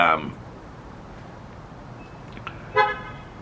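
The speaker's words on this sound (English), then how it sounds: "who's honking like crazy over here?" Car horns honk in street traffic, one loud blast at the start and another shorter toot near the end, with a steady background hum between them.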